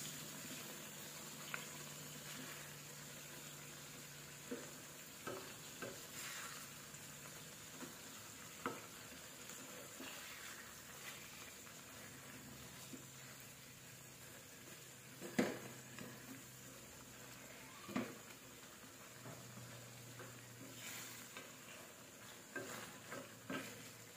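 Shrimp being mixed with black pepper in a pan for spicy buttered garlic shrimp: a faint, continuous sizzle under scattered spatula scrapes and soft clinks, with no talking.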